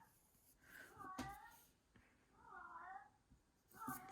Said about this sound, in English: Don't mind my cat while he howls